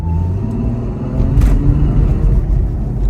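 A Ferrari sports car accelerates with a deep, continuous engine rumble that swells briefly mid-way, heard close and loud from inside or beside the car, no talking.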